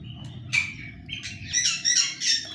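Birds inside an aviary squawk and chirp in short, bright bursts over a steady low background hum, fairly close and moderately loud.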